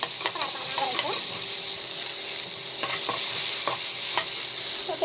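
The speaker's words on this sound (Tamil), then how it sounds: "ஸோ வதக்கிட்டோம்" Green chillies, curry leaves and onion sizzle and fry in a pan, with a constant loud hiss and occasional scraping stirs.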